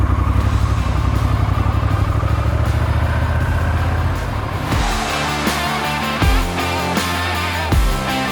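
A vehicle engine rumbles loudly and close just after starting, running steadily with a deep idle that shifts into a rougher, pulsing clatter partway through.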